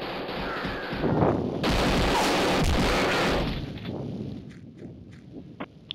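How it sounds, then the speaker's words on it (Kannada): Shotgun blasts from the Mini Militia video game burst loudly in a sustained cluster early on, then fade into scattered smaller pops and clicks. "short gun"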